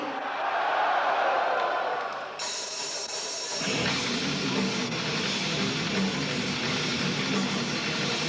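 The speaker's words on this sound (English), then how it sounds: "Look at that fucking crowd" Dense roar of a large crowd cheering at a metal show, loud and close, with a sudden swell partway through that fills the space with broad noise.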